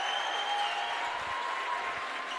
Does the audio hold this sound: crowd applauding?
yes